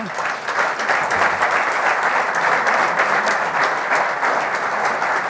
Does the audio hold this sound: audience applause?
yes